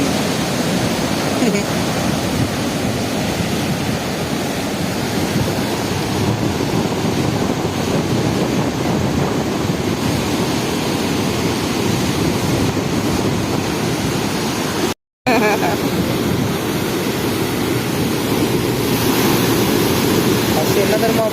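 Ocean waves break on Thiruvananthapuram beach in Kerala with a loud, continuous roaring surf heavily mixed with wind buffeting the microphone, steady from start to finish apart from one brief dropout.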